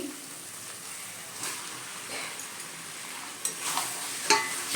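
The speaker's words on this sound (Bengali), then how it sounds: "আমি এবার চিকেনটাকে দিয়ে দিচ্ছি" Chicken pieces coated in spices hit a hot pan and sizzle softly, a quiet steady hiss with a few sharper crackles and spatters near the end.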